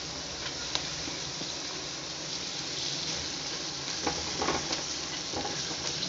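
Long-sliced carrots fry with garlic and onion for a pasta dish, a steady soft sizzle with occasional light taps and scrapes of stirring, fairly close and without voices.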